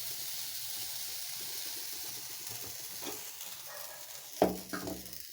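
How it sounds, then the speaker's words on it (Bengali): Sweetened flour batter sizzles on an oiled tawa with a soft, steady hiss, then a couple of louder scrapes and clatters near the end. "সেই আটাটা আমি তাওয়ার মধ্যে দিয়ে দিচ্ছি"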